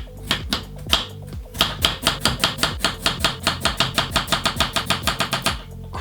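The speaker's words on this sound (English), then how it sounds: "peel the potato, just cube them up" A knife cubes peeled potatoes on a cutting board in quick, evenly spaced chops that speed into a fast, steady rhythm, close and crisp, with no voices.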